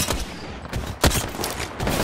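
Sniper gunfire in a multiplayer shooter video game: several sharp cracking shots in quick, uneven succession over about two seconds, moderately loud, with no talk.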